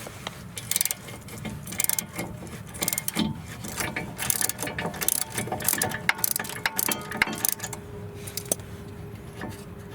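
A hand ratchet with a 15mm socket works loose the rear brake caliper bracket bolts on a Volvo XC, giving rapid close clicking pawl bursts and metallic clacks in uneven rhythm, with no speech over it.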